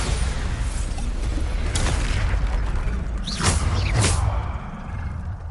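Spell blasts from the Bombarda explosive curse in Hogwarts Legacy on PlayStation, heavy booming bursts landing over a constant low rumble of game combat, with a couple of sharper whooshing hits near the end.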